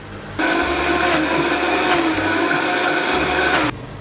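A blender whirs loudly and steadily for about three seconds, blending tomatoes with oil, its motor starting abruptly and cutting off just as sharply.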